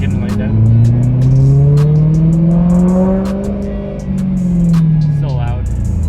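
A supercharged BMW E92 M3 revs hard, its engine note climbing and falling in long sweeping pulls, loud and close, with sharp clicks and people talking over it.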